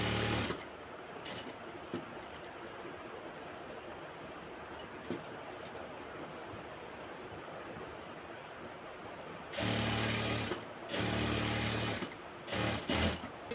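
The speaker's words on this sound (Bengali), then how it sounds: "এই মাঝ বরাবর এভাবে ধরে এক সাইড দিয়ে সেলাই করতেছি" A sewing machine stitches fabric along one side of a fold for a half-band collar with piping. It runs in a soft, rapid whir through most of the clip, then grows louder in short bursts with brief stops near the end.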